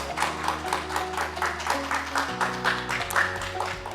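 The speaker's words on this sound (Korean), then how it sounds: "박수로 맞이해 주시면 감사하겠습니다." Audience applause at a mayor's press conference marking three years in office, a steady patter of clapping over a low sustained musical tone, with no talk.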